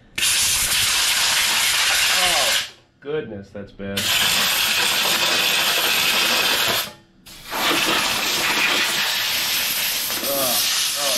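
Compressed air blasts dust, cobwebs and cat fur off a vintage heirloom lawn mower in two long, loud, continuous hissing bursts, separated by brief pauses where someone speaks.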